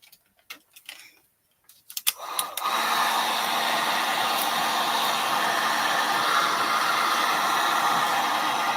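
A hair dryer switches on to dry a mixed-media craft collage of gelato crayons, lace, burlap and butterflies, running as a steady loud whir after a few brief handling clicks.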